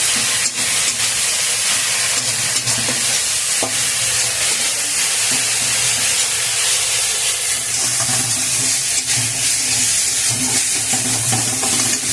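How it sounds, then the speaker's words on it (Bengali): Jute leaves seasoned with turmeric and salt frying in a pan, a steady loud sizzle and hiss with occasional stirring scrapes running continuously throughout. "পাট পাতাটা ভাজা হচ্ছে, এখনো ভাজা হয়ে পারেনি, একদম ভাজা ঝুরঝুরে হয়ে যাবে"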